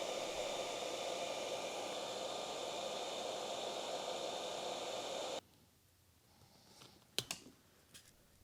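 A heat gun blows steadily as it shrinks two layers of heat shrink over the wire connectors of an 80-year-old Cincinnati motor. The close, loud whoosh cuts off abruptly, and a few sharp clicks follow.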